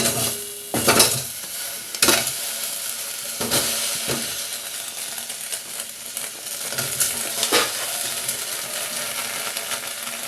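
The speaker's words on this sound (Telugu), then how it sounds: "సాంబార్ ఉల్లిపాయలు, క్యారెట్, బెండకాయ, పచ్చిమిరపకాయలు, చిలకడదుంప ముక్కలు వేసి ఉడికిద్దామండి. ఈ కూరగాయలన్నీ ఒక్కొక్కటి వేసేద్దాం." Vegetables for sambar, including onions, carrot, okra, green chillies and sweet potato pieces, drop into a pot and are stirred, giving several sharp clattering scrapes over a soft steady sizzle.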